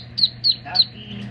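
Squawky calls from a pet duck, three short harsh quacks in an even rhythm at close range, followed by softer rustling and a faint voice.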